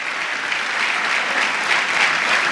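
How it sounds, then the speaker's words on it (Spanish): A congregation at a church gathering breaks into sustained applause, a dense, loud and even wash of many hands clapping throughout, with no speech over it. "dar un aplauso al Señor"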